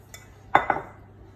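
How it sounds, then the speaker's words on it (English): A lid set onto a pot while sourdough is flipped: a faint tap, then two close, sharp metallic clanks in quick succession, followed by quiet. "So all I do is put the lid on. Flip him over."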